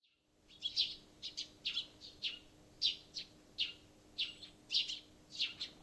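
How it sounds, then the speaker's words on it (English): Small birds tweet outside a window in a Steins;Gate game scene, a series of about a dozen short, bright chirps in irregular bursts over a faint steady hum, fairly close and clear. "hear the tweeting of small birds outside the window."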